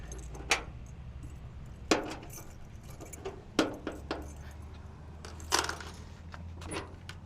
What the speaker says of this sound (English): Let's see if we can get into the trunk. One of these keys ought to do it.